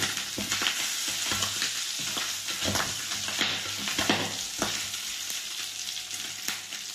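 Garlic frying in a pan while preparing beef with garbanzos, a steady close sizzle with repeated sharp crackles and soft scraping stirs throughout, no voices.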